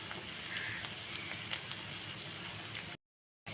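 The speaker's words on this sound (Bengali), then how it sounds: "ভেতরে তেল দেখা যাচ্ছে, ফুটফুট ফুটফুট করছে" Morola fish frying in a pan of bubbling oil gives a steady, close, dense crackling sizzle that runs unbroken, then cuts out abruptly for a moment near the end before resuming.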